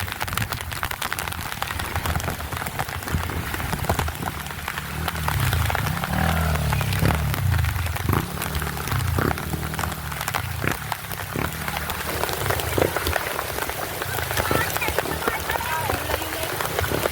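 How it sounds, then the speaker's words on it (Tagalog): Heavy rain pours down steadily during a flood, a dense, unbroken hiss and patter with scattered sharper drips, while voices talk over it. "Guys, napakalakas na ulan dito."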